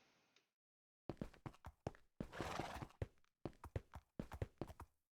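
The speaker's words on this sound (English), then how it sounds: "I think that is our horse." A horse in the Minecraft video game gives a whinny, then a quick run of clip-clop hoofbeats, a soft noisy burst and more hoof clatter, fairly close and without talk.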